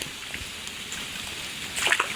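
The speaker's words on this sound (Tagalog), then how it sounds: "Bali, nandito tayo sa ilog" River water flowing steadily in a shallow stream where people are catching shrimp, a continuous close rushing and trickling wash with a brief louder splash near the end.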